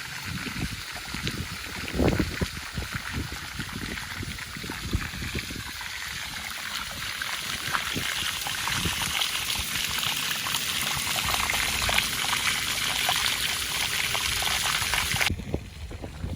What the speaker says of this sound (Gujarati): જો દીપકે હવે મોટર ચાલુ કરી તો પાણી વાવમાંથી ઓછું થાય